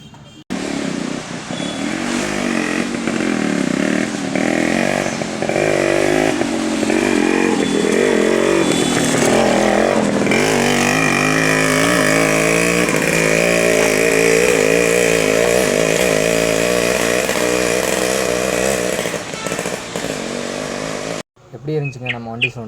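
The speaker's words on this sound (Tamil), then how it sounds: "எப்படி இருந்துச்சுங்க நம்ம வண்டி சவுண்டு?" Vehicle engine roaring close and loud while driving toward a trekking trail near a waterfall, the revving rising and falling continuously for about twenty seconds before dropping away.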